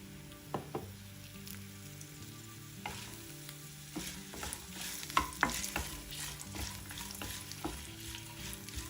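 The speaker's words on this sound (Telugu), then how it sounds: "పల్లీలు కొద్దిగా వేగాక దీనిలో ఎండుమిరపకాయల్ని తుంచి వేసుకోండి." Peanuts and broken dried red chillies sizzle in a pan while a spoon stirs and scrapes, giving soft intermittent clicks and scrapes over a quiet steady fry, with no voices.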